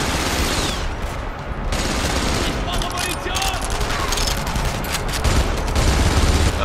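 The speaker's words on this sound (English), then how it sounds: "I just kind of shoot randomly when I have hands on machine gun" Sustained machine gun fire in the World War II shooter Enemy Front, a dense continuous rattle of shots with louder bursts near the end, mixed with game noise and faint voice under it.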